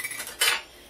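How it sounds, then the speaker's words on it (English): A metal utensil stirs cheesy chicken chilli in a pan, giving a single bright scrape and clink up close, brief and with no talking. "Stir it around."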